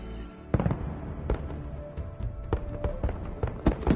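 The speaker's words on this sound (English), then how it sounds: "Hey, firework." Fireworks exploding in the video game Horizon Forbidden West, a string of sharp booming cracks spread across a few seconds over a faint game backdrop, with one bright whistling streak in the middle.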